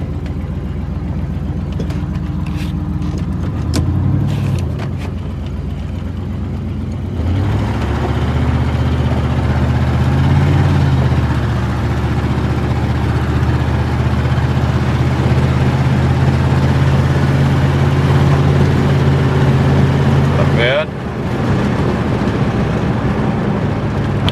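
Ford LTD engine running steadily after carburetor work, rumbling low and continuous at close range as the car backs out and moves along a driveway, with a brief engine rise near the end.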